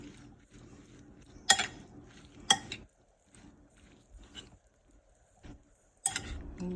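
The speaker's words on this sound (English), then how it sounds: "And you want to mix it and get everything incorporated" A spoon mixes snack ingredients with a dash of olive oil in a bowl, making scattered scrapes and a few sharp clinks against the bowl, with quiet gaps between strokes.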